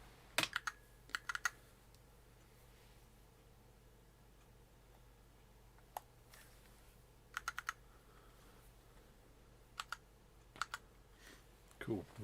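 Sparse bursts of computer keyboard typing and clicking in a quiet room during game development work, short clusters of keystrokes separated by long pauses over a low steady hum, with someone speaking at times.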